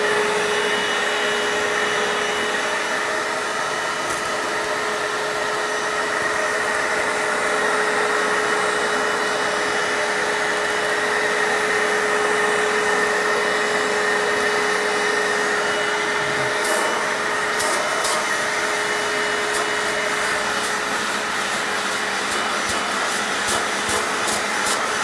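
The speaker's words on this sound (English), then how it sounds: "I'm gonna have the vacuum off just so I don't suck up all this water." A Bissell Little Green portable carpet cleaner runs steadily, its motor giving a continuous, loud, even whine with broadband rush that holds unchanged throughout.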